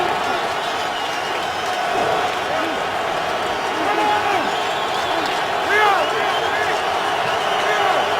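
Large football stadium crowd at a Browns home game against the Broncos, a sustained roar of cheering and noise filling the air, with a commentator talking over it.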